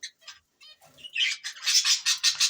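A pet bird squawks as the female is caught by hand, giving a close, loud string of harsh, rasping calls that grow denser and more frantic toward the end.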